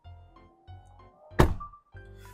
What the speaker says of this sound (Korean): 이거는 제가 브레이크를 잡았을 때 문이 닫힙니다